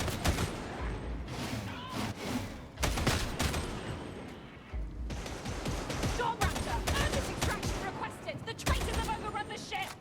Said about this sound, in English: Oh, it's an auto gun, not a las gun.